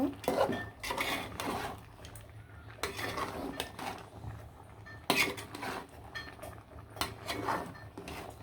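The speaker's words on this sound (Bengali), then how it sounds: "এটা আমি ভালো করে লাড়াচাড়া দিয়ে দিব" Bottle gourd curry with a rohu fish head being stirred in a pan on low heat, the utensil clinking and scraping against the metal in irregular bursts with soft quiet gaps between strokes.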